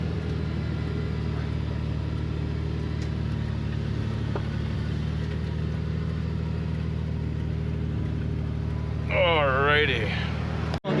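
A Honda CR-V engine runs rough with its revs stuck high in neutral, a steady close drone. A voice speaks briefly near the end.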